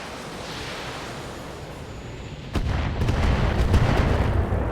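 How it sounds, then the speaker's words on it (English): Mortar fire in the BattleTech video game: a sudden heavy boom, followed by a dense, rumbling barrage of blasts that stays loud and continuous to the end, with no voices. "Huh, mortars."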